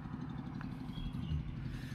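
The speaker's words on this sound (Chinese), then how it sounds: "拖拉机。" A tractor engine passes on an outdoor road, giving a low, steady chugging rumble with a faint clatter, moderately near and unbroken throughout.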